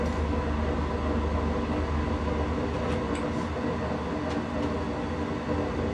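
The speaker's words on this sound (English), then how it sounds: "We taxi off to the far end of the runway" A Van's Aircraft RV-10 rolls down a runway, its cabin filled with a loud, constant engine and propeller drone and rumble, with a few faint clicks and ticks over the steady noise.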